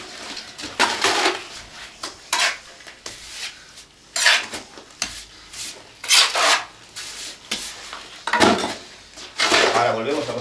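A straightedge screed is dragged over sand and lime plaster in repeated rough scraping strokes, each a gritty rasp rising and fading, close by and fairly loud.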